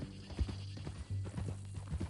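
Horse hooves clip-clop in Red Dead, several quick, fairly close footfalls in an uneven gait over a steady low background hum, with no talking.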